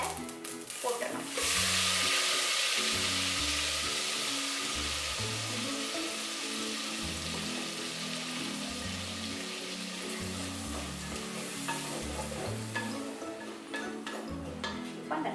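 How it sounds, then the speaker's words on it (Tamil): Onions sizzle and crackle in hot oil in a pan for a South Indian pomfret fish curry, a dense, steady frying hiss that stays close and loud throughout, with faint stirring and background noises underneath. "இப்போ கொஞ்சம் சிம்ல வச்சுட்டு இந்த வெங்காயத்தை போட்டுடணும்"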